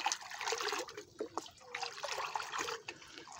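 Plant tonic being stirred into fifteen liters of water for hibiscus plants, a steady close-up sloshing and trickling of liquid with irregular swirls, no voices.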